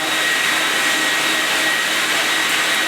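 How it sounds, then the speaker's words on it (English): Upright vacuum cleaner running steadily during a cleaning tutorial, a loud, continuous broadband whine with a strong high hiss that stays constant throughout, with no speech. "generally the vacuum will clean better on the backward stroke"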